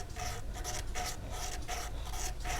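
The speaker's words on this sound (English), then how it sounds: "I'm going to lay it on sandpaper or a sanding stick like this, and I'm going to just swipe it back and forth a whole bunch." A small metal blank is swiped back and forth on sandpaper in quick, regular rasping strokes, about ten gritty scrapes in under three seconds, close and clear.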